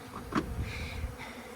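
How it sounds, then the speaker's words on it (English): Honey bees buzzing around a commercial beekeeper's workspace, a quiet steady drone with a few brief louder passes of single bees close by. "The amount of bees in my workspace"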